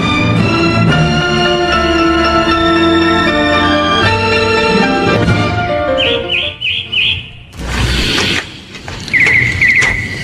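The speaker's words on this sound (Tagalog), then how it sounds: "Wala kang ibang naririnig kundi yung huni ng ibon." Birds sing outside a small hut in the fields: music plays at first, then short bright chirps come in quick bursts, a cluster midway and another near the end.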